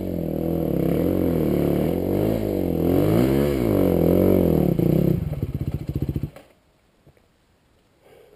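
An off-road motorcycle revs hard on a forest trail, a loud close engine note that rises and falls in surges before sputtering down and cutting off into near silence.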